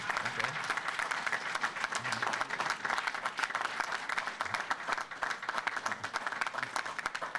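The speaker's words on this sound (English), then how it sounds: "Yeah, they deserve applause." Audience applause in a public meeting hall, steady dense clapping from a crowd lasting throughout, moderately loud with some background voices mixed in.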